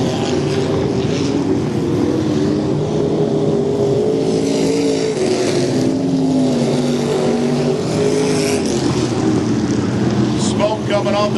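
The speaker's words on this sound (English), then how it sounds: "the field quickly spreads out in this first limited modified heat race" Limited modified race cars roar around a dirt track during a heat race, their engines a dense, continuous, loud drone, with a commentator talking over the noise.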